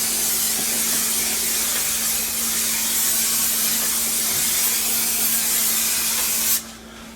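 Adhesive sprays steadily onto a Marshall 1960A guitar speaker cabinet ahead of a tolex wrap, a loud continuous hiss that runs unbroken for several seconds and then cuts off sharply near the end.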